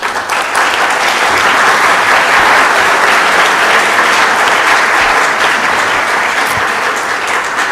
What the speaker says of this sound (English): Please give them a warm applause.